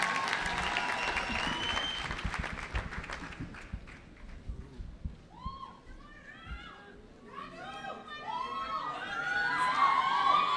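A graduation ceremony audience claps and cheers loudly at first, the applause thinning out as scattered shouts and children's voices continue across a lively crowd.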